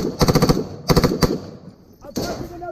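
Machine gun fire in combat, with loud close rapid bursts of shots in two clusters followed by a single sharp report, and someone shouting between them.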